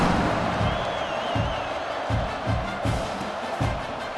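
Dense stadium crowd noise from a College Football 26 game at kickoff, a steady loud roar with rhythmic low thumps and swells of cheering throughout.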